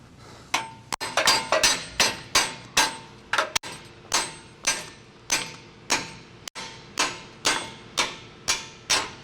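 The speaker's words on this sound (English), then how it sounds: "you might have to grab a hammer" Steady metallic hammer taps, about two per second, drive a bolt into place on a 2021+ Ford F150 during a lift kit install, ringing out clearly and evenly, each strike sharp with a short ringing decay.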